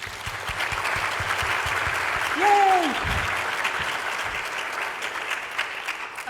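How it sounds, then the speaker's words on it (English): Sustained audience applause at a postdoc appreciation event in Manchester, dense and steady throughout, with a brief cheer rising above the clapping. "a big round of applause for our speakers"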